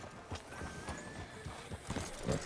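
Horse hooves clip-clop slowly on the ground in Red Dead Redemption 2, several soft, irregular steps at moderate distance, fairly quiet, with a faint tonal hum in the background.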